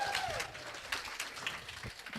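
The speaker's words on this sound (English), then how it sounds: "Should we give them a clap or a cheer or something?" Wedding guests applaud the bridesmaids at a reception, a brief burst of crowd clapping mixed with cheers and voices.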